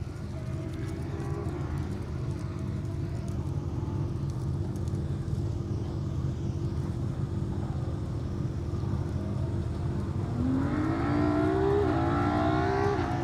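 Rally cars on an asphalt rally stage in the East Riding, including a Subaru Impreza pair, roaring past with a steady loud engine drone that rises into revving toward the end.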